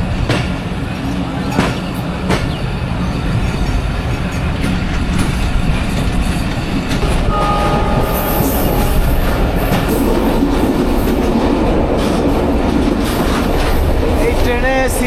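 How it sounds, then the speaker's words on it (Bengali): The Rohanpur commuter train in Rajshahi, Bangladesh, runs on rails with a loud continuous rumble and rhythmic clatter of wheels, heard from inside a carriage, with faint voices in the background and a brief high squeal midway. "রহনপুর কমিউটার ছেড়ে দিল।"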